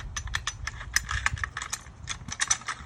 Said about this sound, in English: You're going to grab your bolt and rod, you're going to slip that in